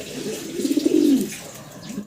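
Pigeons coo close by, a low throaty rolling call swelling in the middle, with faint background hiss.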